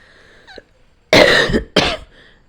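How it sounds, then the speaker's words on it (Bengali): Two loud, harsh coughs from a woman in quick succession, close by, after a brief quiet stretch with a faint background sound. "দিদিভাই ছাদে মনে হয় কাশছে"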